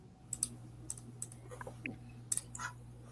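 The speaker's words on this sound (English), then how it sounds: "Who that typing away?" Scattered keyboard clicks sound at a distance during a live stream, with sharp isolated taps and small clusters over a low steady hum and no talking.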